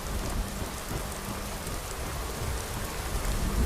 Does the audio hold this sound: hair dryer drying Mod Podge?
no